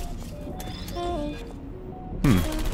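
Automated turrets open fire in a Portal 2 test chamber, rapid clattering bursts of gunfire mixed with other game effects and a louder burst near the end.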